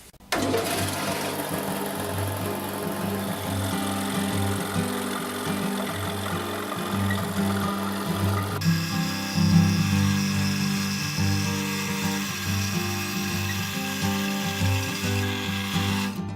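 A 1940s Craftsman scroll saw fitted with a sharp blade, cutting through 3/4-inch pine with a loud, steady, rapid reciprocating buzz and hum that holds constant from start to finish.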